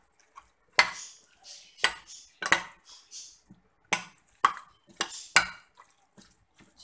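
A spoon scrapes and clinks against a bowl while dahi bhalle are mixed with leftover yogurt, coming as a series of separate, irregular strokes with quiet gaps between them and no talking.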